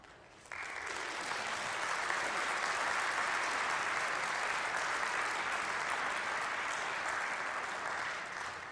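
A synagogue congregation bursts into sustained applause for a man's 99th birthday, a dense, steady clapping that swells in after a brief quiet start and holds evenly to the end.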